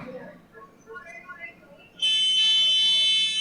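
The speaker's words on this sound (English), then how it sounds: "Beeping." A steady high-pitched electronic beep switches on abruptly midway and holds loud and continuous, after a stretch of muffled background chatter.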